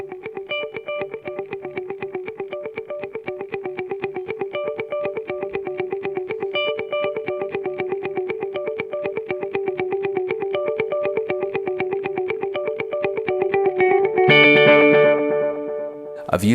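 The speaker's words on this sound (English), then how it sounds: "The Dark Times is a great standalone delay pedal." An electric guitar plays a rhythmic riff through a Dark Times delay pedal, with steady repeating echoes in a clean tone, loud and close, ending in a brief swell of denser chords near the finish.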